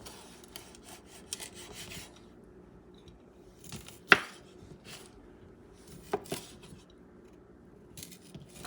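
A knife chops sausage into small pieces on a board, giving irregular quiet scraping cuts and a few sharper knocks, close up with a faint background hum.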